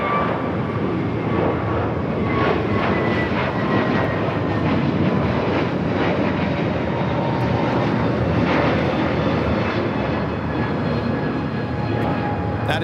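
A JetBlue Airbus A321neo jet takes off from Los Angeles International Airport bound for JFK, producing a loud, sustained engine roar with faint tonal whines, steady for the whole stretch with no talk over it.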